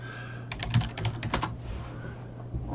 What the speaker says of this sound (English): Yeah, I typed in the password wrong.